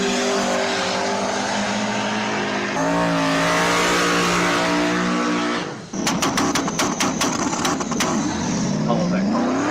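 Race car engine revving and accelerating at close range, with harmonic engine tones rising then a sharp burst of rapid repeated bangs and a fresh rising pitch, running the whole time beneath people talking.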